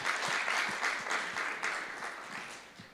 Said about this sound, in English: I think we'll give a round of applause for your great presentations and your Q&A.